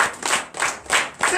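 A church congregation claps in rhythmic unison during a Sunday service in Benin, four strong grouped bursts of clapping about a third of a second apart, close and loud with no talk over them.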